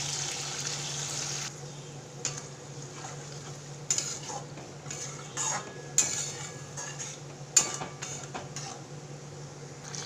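Water added to prawns and okra cooking in a pan, with a soft steady sizzle and a few light clinks and stirring scrapes, fairly quiet and close.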